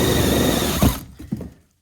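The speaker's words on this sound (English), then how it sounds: "and now I can drill a 4-inch hole." A drill fitted with a Milwaukee adjustable hole saw cutting a 4-inch hole, likely in ceiling tile or drywall, gives a close, loud grinding whir for about a second before it winds down and a few clunks and scrapes follow.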